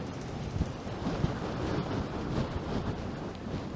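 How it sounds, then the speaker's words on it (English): Strong gusting wind buffets the microphone while walking outdoors along a city street in north Toronto in March, a steady broadband roar with rumbling bursts and no speech. "And this is a strong wind I'm walking into."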